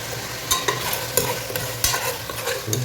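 Pieces of previously boiled chicken frying in oil for chicken dum biryani, with a loud, close sizzle punctuated by repeated scraping and stirring strokes from a spoon, and no one talking.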